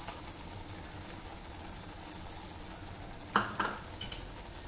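Ground urad dal gets stirred into Chapdi Undhiyu, with a soft continuous sizzle and a few brief, sharp scraping knocks of a spoon near the end.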